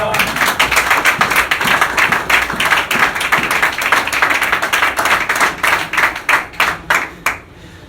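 A church congregation applauding during a sermon, rhythmic and fairly loud hand clapping in a steady beat that thins into a few last claps before stopping.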